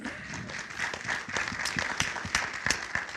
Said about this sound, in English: Round of applause for Eddie Linker